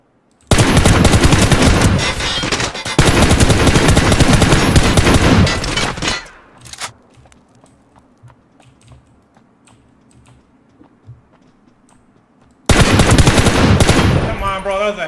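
Gunfire in the video game Ring of Elysium: long loud bursts of rapid automatic shots, a quieter stretch with faint sounds, then another heavy burst near the end.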